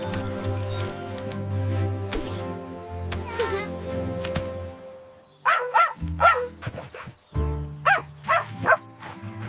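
A dog in a children's English-alphabet learning piece barks several times in short, loud bursts near the end, over a backing of sustained musical tones.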